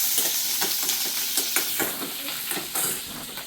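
Mustard seeds, onion and curry leaves fry in hot oil for avarakkai kootu, a steady close sizzle with crackling pops and stirring scrapes throughout, no voices.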